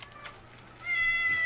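Cats meow while being fed chicken at a home birthday gathering, with a thin, drawn-out meow rising above faint background noise, fairly close.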